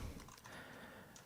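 An email address being typed on a computer keyboard: a short burst of quick, light key clicks heard close against a soft room hiss.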